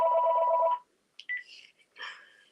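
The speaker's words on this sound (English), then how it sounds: "on the base it has a different version of Ringtone 1, the old American one" A cordless telephone handset base plays its version of the old American ringtone, a short buzzy warbling ring lasting under a second, followed by quiet chirpy electronic sounds.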